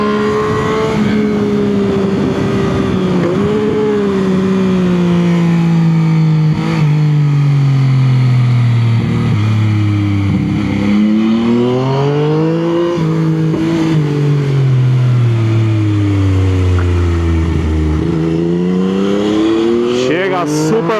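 A 2021 Yamaha MT-09 motorcycle engine revs loud and close on the throttle, its pitch rising and falling repeatedly over about twenty seconds of continuous running.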